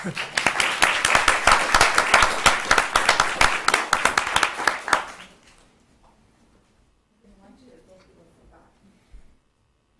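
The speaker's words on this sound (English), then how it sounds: "Stand up and get an applause." Audience applause at a school board meeting, a dense burst of many hands clapping for about five seconds before cutting off, followed by near silence with faint room murmur.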